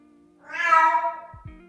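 A pet cat at home gives a single drawn-out meow lasting about a second, clear and close, in a quiet room with a faint background hum.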